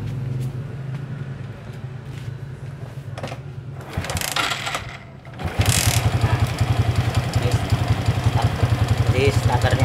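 A Suzuki Shogun R 110 motorcycle being started. A quieter engine is heard first, then a cranking burst, then the engine catching into a loud, rapid, steady idle close by.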